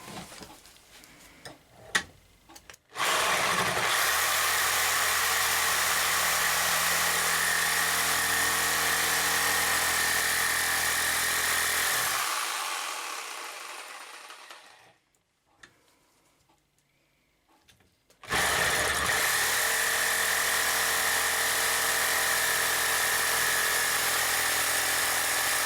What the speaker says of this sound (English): Let's have a go at cutting through this bolt.